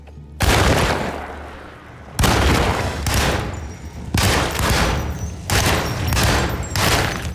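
Shotgun blasts and Tommy Gun bursts in Alone in the Dark 2024, firing as a series of loud, close booming shots with long ringing tails, roughly half a dozen heavy reports spaced about a second apart.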